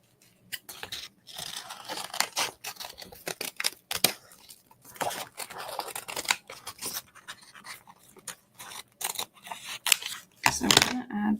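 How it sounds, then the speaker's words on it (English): Scissors cutting out a paper piece for a mini album, a string of close crisp snips and paper rustles in uneven bursts, with a rougher crumpling handling noise near the end. "So I'm going to cut that out."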